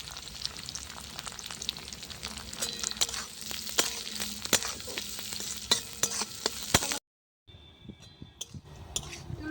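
Steady crackling sizzle of black pepper and cumin frying in hot oil on a clay stove, with stirring scrapes throughout, close and fairly loud, then a brief silence before quieter sizzling resumes.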